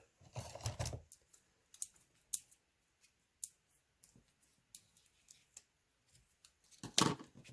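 Scissors trimming the ends of a tied ribbon on a handmade card, a few crisp close snips with light clicks and handling noises between them, one louder cut near the end.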